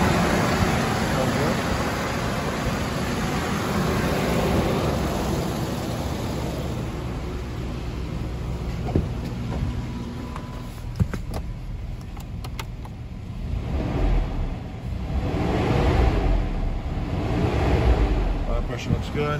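A Ford Explorer with a 4.0 engine, automatic and four-wheel drive, idles steadily with a continuous low rumble and broadband engine noise, with some outdoor wind and background hiss mixed in.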